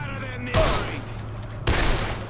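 Two loud, close gunshot blasts from Dead Island, each with a long decaying tail over a steady low hum.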